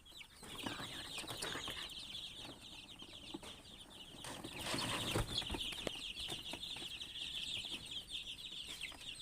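A flock of hens and many young chicks makes continuous high peeping mixed with soft clucks and occasional wing flaps, fairly close and without speech.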